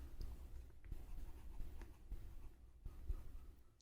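A pen writes an answer on paper during a math lesson, with faint, close scratching strokes and light taps in short bursts against quiet room noise.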